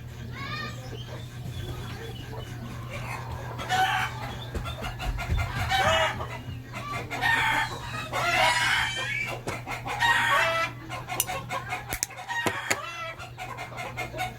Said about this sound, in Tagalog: And uminga na yung mga manok, guys.